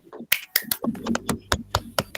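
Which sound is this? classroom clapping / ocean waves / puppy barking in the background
classroom clapping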